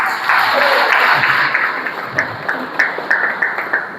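Church congregation applauds during a Maundy Thursday service, a dense burst of clapping that fades into a few scattered, distinct claps near the end.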